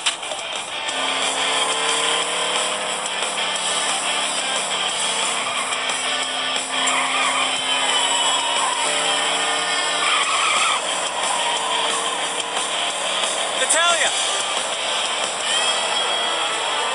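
A car in the video game Lego City Undercover drives hard with continuous engine roar and repeated tire squeals and skids, loud and sustained throughout, with no talking.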